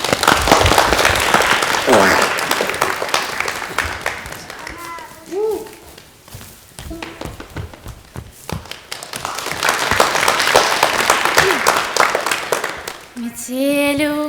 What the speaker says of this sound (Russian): Встречаем аплодисментами.